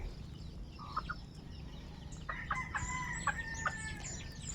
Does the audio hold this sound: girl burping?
no